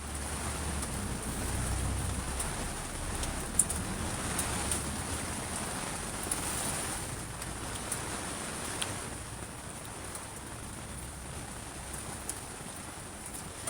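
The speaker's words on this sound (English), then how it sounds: "Here comes the rain again. We do love it though, the sound, the sound, the sound." Steady rain falls outdoors, a dense even hiss of drops with a few sharper individual splats, continuous and fairly close throughout.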